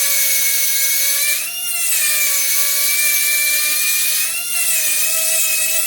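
Rotary tool cutting and thinning a chainsaw carburetor choke shaft, a loud, close, high-pitched steady whine that dips briefly twice as the bit bites into the metal.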